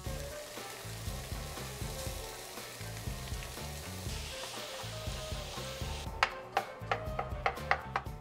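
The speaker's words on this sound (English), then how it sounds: "You make the meat first, just in a little bit of olive oil." Ground meat fries in a little olive oil for lasagna, a quiet, steady sizzle under a low hum, ending with a string of light ticking clicks.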